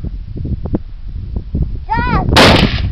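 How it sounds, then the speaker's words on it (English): A bucket of explosive is shot from about 50 yards away and goes off with a sharp rifle crack followed by a loud, broad blast, after someone whoops and other people talk nearby. "Let's see a big explosion."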